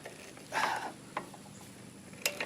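A ratchet works loose the tight bolts holding the carburetor on a lawn mower, heard as a few close, short bursts of metallic clicking and scraping separated by quiet pauses.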